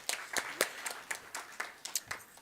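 Scattered claps from a small audience at a talk on food as medicine, a few distinct hand claps spaced irregularly over a couple of seconds, faint and thin rather than a full ovation.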